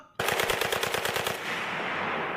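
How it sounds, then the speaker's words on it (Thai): A loud, close burst of AK-47 machine gun fire with about a dozen rapid evenly spaced shots, then a fading echo. "มีเสียงปืนโกนาก้าจากผู้ก่อการร้ายคอมมิวนิสต์ ดังขึ้นมาหนึ่งชุด"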